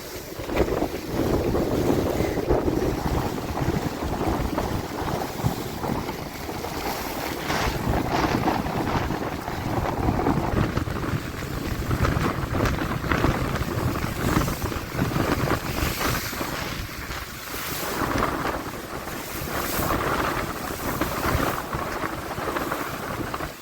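Strong wind buffets the microphone while waves surge and crash steadily across a flooded road, a continuous loud rushing wash with no clear breaks.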